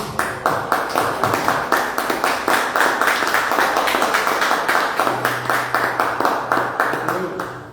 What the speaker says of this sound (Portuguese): As palmas louvam ao Senhor Jesus.